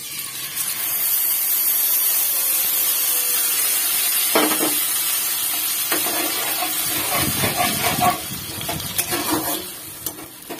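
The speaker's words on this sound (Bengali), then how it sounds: "এই যে মশলাটা অ্যাড করে দেব।" A spice paste of ginger, cumin, turmeric and chilli sizzles and hisses loudly in a hot pan, with scraping stir strokes breaking in through the second half.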